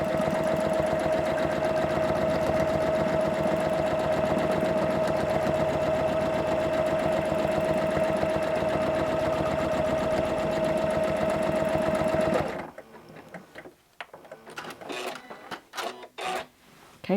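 A sewing machine runs fast and steadily while quilting a swirl pattern, a close continuous whir, then stops abruptly, leaving light handling noises.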